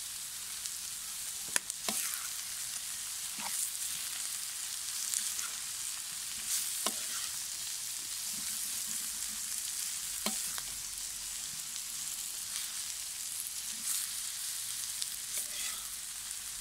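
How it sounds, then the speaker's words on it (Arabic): Spiced lamb liver fries in a Turkish saj pan, a steady close sizzle with periodic sharp scrapes and clacks of a utensil stirring every few seconds, no voices. "وأظل أقلب بيه وأغطي"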